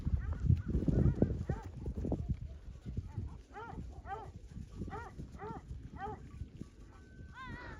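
A flock of sheep bleats repeatedly during a severe snowstorm, several animals calling one after another at moderate distance, with rustling and shuffling noises underneath.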